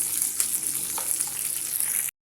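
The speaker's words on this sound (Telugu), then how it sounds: "ఇప్పుడు వీటిని కూడా కొంచెం లైట్ బ్రౌన్ కలర్ వచ్చేంత వరకు ఫ్రై చేసుకోండి" Onions, curry leaves and green chillies fry in hot oil with a steady, bright hiss of sizzling close by. A few soft stirring clicks sit under it before the sound cuts off abruptly.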